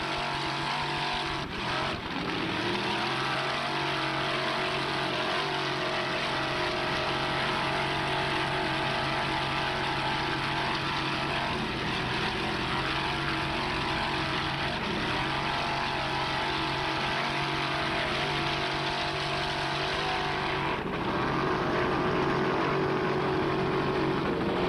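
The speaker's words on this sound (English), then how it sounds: "a 28-foot Manta powered by one 700 horsepower Frank's Marine Racing inboard with a Mercruiser drive" A 28-foot Manta offshore racing powerboat with a single 700 horsepower Frank's Marine Racing inboard and Mercruiser drive, roaring steadily at close range in a Key West championship race, its loud engine drone shifting slightly with throttle.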